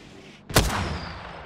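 A single loud gunshot from a scoped weapon in the video game Apex Legends, a sharp blast followed by a long, fading reverberant tail, with no voices over it.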